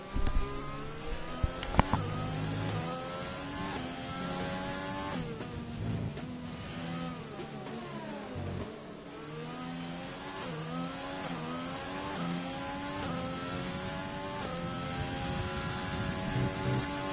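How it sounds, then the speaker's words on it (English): Race car engine roaring at Zandvoort in a sim racing game of a Formula 3 series, a loud, continuous onboard engine note rising and falling through gear changes and revs. "enjoy the roar of the engine"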